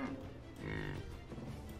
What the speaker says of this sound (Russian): Тут корова орут.